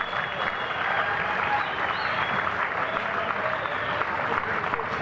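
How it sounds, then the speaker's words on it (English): A crowd at a Player of the Year awards ceremony gives a dense, continuous round of applause, steady and loud for the whole stretch. "A round of applause"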